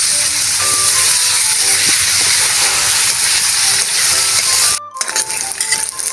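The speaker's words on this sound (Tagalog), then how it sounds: "bubuhos na natin yung ating tukwa. Dinagdagan ko lang ng mantika." Fried tofu (tokwa) hits hot oil topped up in a pan after eggs were fried, giving a loud, dense, continuous sizzle with a brief drop near the end before the crackling resumes.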